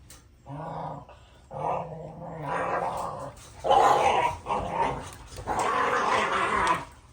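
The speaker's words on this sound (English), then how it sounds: "My pups want to play." Pet dogs playing in a yard, trading low growls, barks and yips in bursts, close and fairly loud.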